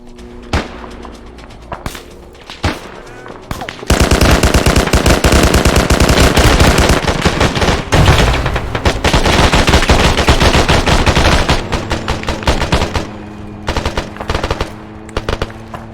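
Sustained automatic gunfire in an Arma 3 firefight, loud and close, roars almost without break for about ten seconds after scattered single shots, then thins back into sporadic bursts.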